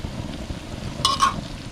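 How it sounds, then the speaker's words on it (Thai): Banana chips fry in oil over low heat with a soft, steady crackle, and two brief brighter bursts of stirring or sizzling rise near the end. "ทอดไฟอ่อนๆนะครับ"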